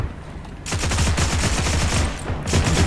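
An M2 heavy machine gun fires in the Heroes & Generals video game, a rapid, evenly spaced stream of heavy shots in a sustained burst, loud and close.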